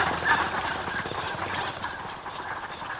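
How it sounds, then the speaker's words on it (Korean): A large flock of wintering ducks on Bamseom island in the Han River calls continuously, a dense mass of quacking and honking voices at moderate distance with no speech. "밤섬을 찾은 겨울 철새는 대부분 오리고."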